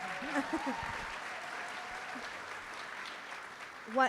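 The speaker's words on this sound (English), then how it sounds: "clap for that" Audience applause at a live women's advocacy event in Philadelphia, moderately loud and steady, with a few brief voices audible over the clapping near the start and end.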